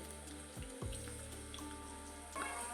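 Capsicum slices fry in hot oil with garlic in a pan over medium heat, giving a steady, fine sizzle close by, with a couple of low knocks or thuds partway through.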